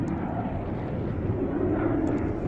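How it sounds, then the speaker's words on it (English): A Jet Provost jet trainer flies at a vintage airshow at Shuttleworth, giving a steady, fairly loud broadband jet roar that holds level throughout without a pause. "the significance really of the Provost is that it was the first all-jet, or purpose-built jet trainer for the RAF"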